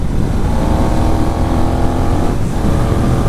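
A Benelli 752S motorcycle is ridden along a winding road, its engine a loud, steady, close drone with rushing wind and no speech.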